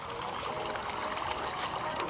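Water trickles and splashes steadily from a water ball play feature in a safari park's village playground, a continuous close hiss with no pauses.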